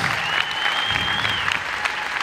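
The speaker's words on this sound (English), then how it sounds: "Please, a big round of applause." Loud applause from a crowd, steady and sustained clapping throughout, with a faint tone ringing above it.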